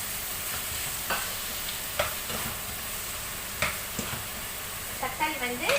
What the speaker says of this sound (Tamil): இந்த மாதிரி வெங்காயமும் பூண்டும் வதங்கணும்.